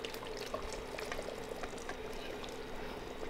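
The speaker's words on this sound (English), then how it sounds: "I'm going to pour this into the bowl with the" Hot hard crack candy syrup pours into a glass bowl holding flavoring, a steady close hiss and sizzle with faint liquid trickling, continuous for a few seconds with no talk.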